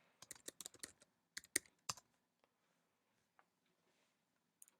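Password keys tapped on a computer keyboard, a quick burst of close clicks followed by a few sparse keystrokes, quiet and with no talking.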